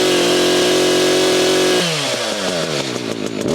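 Chainsaw cutting wood, a loud, steady engine whine close by that shifts pitch partway through as the chain bites and revs, with no talking.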